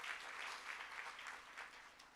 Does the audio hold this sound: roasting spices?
no